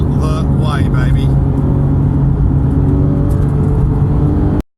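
A naturally aspirated Porsche GT3 engine screams up toward 9,000 RPM. The roar is loud, close and sustained, with talk over it, then it cuts off abruptly at the end.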